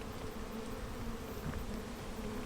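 A swarm of bees in the video game PEAK buzzes in a steady, dense drone that stays constant throughout, with no voices over it.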